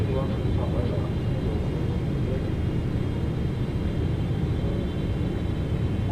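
In Microsoft Flight Simulator 2024, a PMDG 777 freighter's landing gear lowers on approach, heard as a steady low cabin rumble and engine drone with a faint mechanical undertone throughout.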